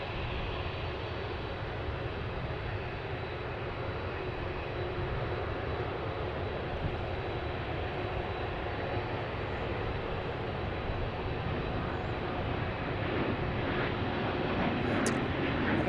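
An Alaska Airlines airliner in special livery at DFW airport, a broad, continuous jet engine roar that holds steady and swells slightly toward the end, heard alone without talk.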